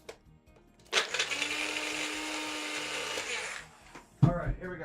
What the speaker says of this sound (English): Now, let me reblend this.